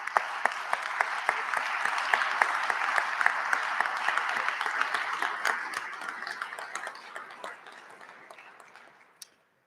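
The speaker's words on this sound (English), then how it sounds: "we'd like to give you a round of applause" An audience at a state agricultural convention gives a sustained round of applause, dense steady clapping from a room full of people that thins out and stops abruptly near the end.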